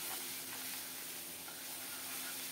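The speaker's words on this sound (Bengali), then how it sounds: "জিরা দিয়ে একটু নেড়ে চেড়ে জিরাটা ভালো করে ভেজে নিয়েছি।" Ground cumin fries in hot oil with whole cumin, bay leaves and sliced green chillies, a faint, continuous sizzle with soft stirring scrapes and no talk.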